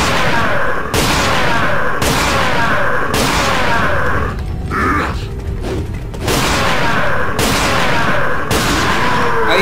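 Rapid bursts of gunfire ring out in the video game Resident Evil 4, loud repeated volleys spaced about a second apart with a short lull in the middle.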